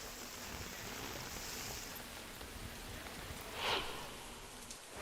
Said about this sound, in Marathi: अंबरनाथ आणि बदलापूर शहरामध्ये मुसळधार पाऊस कोसळतोय